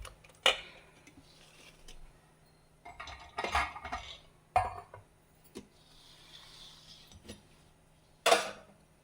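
Metal idli plates and pots clinking and clattering on a kitchen counter while sabudana (sago) idli is prepared, with several sharp, close clanks separated by quieter handling and scraping.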